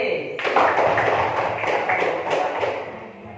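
Classroom applause for a student during an Islamic religious education lesson: a dense patter of many hands clapping starts sharply and carries on steadily for about three seconds before fading, with room noise and voices underneath.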